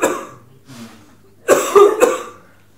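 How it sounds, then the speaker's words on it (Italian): Coughing from an actor during an amateur stage play: a faint throaty sound, then a loud cluster of three harsh coughs near the end, close and clear over light room noise. "Tossisca, per favore."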